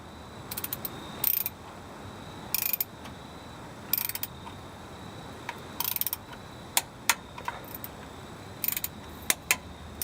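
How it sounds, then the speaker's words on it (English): A torque wrench tightening differential cover bolts gives bursts of quick ratcheting clicks, close and crisp, repeating in short runs with brief pauses between and no speech over them. "set your torque wrench to 10 foot-pounds, and we'll start tightening these down"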